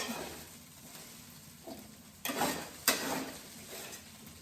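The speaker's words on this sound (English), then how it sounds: "And then we're just going to cook our eggs." Eggs cooking in a skillet reused from frying potatoes, giving a soft sizzle with a few sharper scrapes and clatters of a utensil against the pan, close and fairly quiet.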